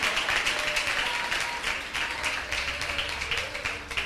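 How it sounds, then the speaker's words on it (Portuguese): A church congregation applauds during a Portuguese-language worship service, steady close hand clapping with sharp taps running continuously without a break, with faint voices mixed underneath. "Pode aplaudir o nome do Senhor."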